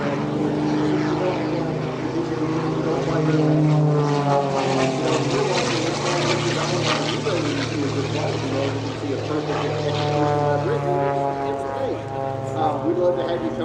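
Propeller aerobatic airplane performing hammerhead and outside snap maneuvers at a competition aerobatics showcase, its engine droning steadily and loudly throughout with rising and falling pitch, under a commentator's voice.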